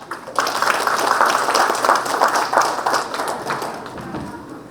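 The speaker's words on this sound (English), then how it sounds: "Can we have a huge round of applause for Vamshi?" An audience at a tech conference on AI-native DevOps gives a big round of applause for the speaker Vamshi, steady and full for several seconds before easing slightly.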